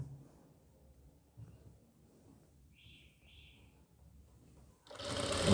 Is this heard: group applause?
no